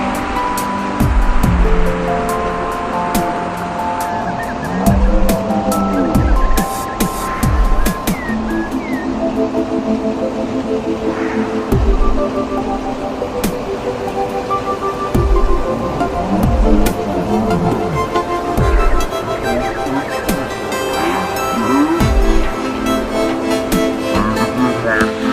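Jalatharanguni waterfall at Meredumilli roars steadily and loudly throughout, with music playing over the rushing water.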